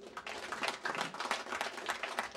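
Scattered clapping from a crowd at a street paving inauguration in a rural village community, a steady patter of hands lasting a couple of seconds with no talk over it.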